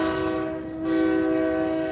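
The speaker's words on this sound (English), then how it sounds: "oh gosh, this train is so loud" A loud train sounds a sustained, steady horn very close by, the blast continuing without break over the rumble of the passing rail cars.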